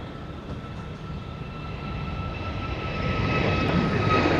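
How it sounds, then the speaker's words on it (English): A Boeing 737 MAX 8 airliner on flight 2329 to Las Vegas gives a steady, broad engine roar at Dallas Love Field that slowly swells louder, with a faint tonal whine on top. "we've got flight 2329 going to Las Vegas on a MAX 8"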